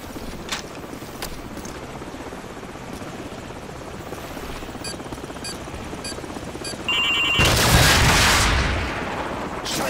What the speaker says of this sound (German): So, eine Stinger schnappen und den Hubschrauber abschießen.